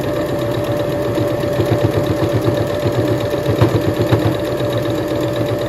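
Sewing machine stitching fleece for a beanie hat, a continuous close, loud mechanical chatter with a fast steady needle rhythm that slightly labors at moments.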